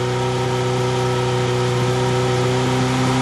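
A motorcycle engine treated with Amsoil fuel additives holds a steady 4,000 rpm, giving a smooth, even drone with a constant pitch and no talk over it.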